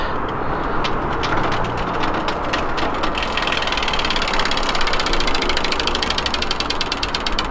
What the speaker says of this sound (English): all the gears seem to be going in now absolutely fine